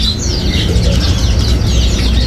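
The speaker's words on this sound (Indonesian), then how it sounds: "Mas Aris, jadi tadi kita habis ngeliput burung-burung yang ready di kios ini ya" Many caged birds chirp and tweet together at a bird market kiosk, a dense continuous chorus of overlapping calls with low background market rumble throughout.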